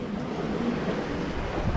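Wind buffeting the microphone on a sailboat heading into a headwind off Majorca, a steady broadband rush mixed with water noise, continuous and fairly loud with no voices.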